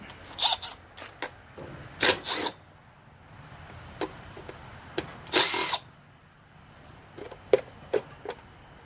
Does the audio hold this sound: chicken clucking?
no